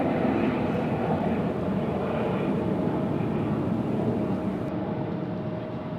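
AeroMexico airliner at Raleigh Durham International Airport, a steady broadband jet engine roar that holds evenly loud throughout, distant and continuous with a faint tonal whine running beneath.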